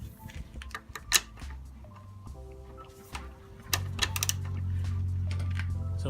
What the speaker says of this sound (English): I have a torque wrench here set to the specified torque of 25 foot-pounds, so I'm gonna torque that down